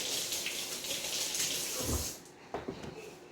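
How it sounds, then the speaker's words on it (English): Hands washed under a running tap in a home kitchen after cracking eggs, a steady broadband rush of water for about two seconds, then the flow stops and a few wet splashes and clinks follow. "I'm then going to quickly wash my hands just to get the egg goop off"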